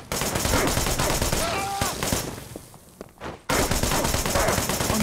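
Rapid volleys of gunfire in the action game Wanted: Dead, a dense, continuous crackle of shots that thins out briefly midway before resuming at full intensity, with voices calling out in the mix.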